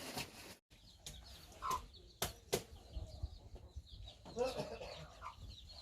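Chickens kept in a corner of a rural farmyard in Ha Giang, far northern Vietnam, cluck and squawk in scattered bursts at a moderate distance, along with a few wing flaps and faint background ambience.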